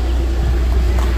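A car arriving, heard as a steady, loud, low engine rumble close by that continues without a break.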